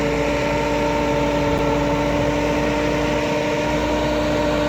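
A Massey Ferguson MF 385 tractor engine runs steadily while pulling a rotavator through deep mud, a continuous loud mid-low drone with a constant harmonic hum and no talk.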